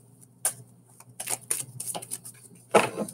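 A deck of cards is shuffled several times in quick, uneven bursts of riffling and flicking, close and fairly quiet, during a tarot reading.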